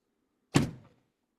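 A door is pushed shut with a single solid thunk, close and fairly loud, fading quickly into silence.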